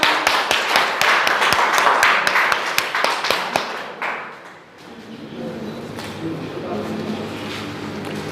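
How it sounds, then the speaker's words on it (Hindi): An audience at a school result celebration applauds loudly for a student, with sharp individual claps in a dense burst that dies away after about four seconds, followed by quieter room murmur. "विशेष मेहनत की है, इनके लिए जोरदार तालियां।"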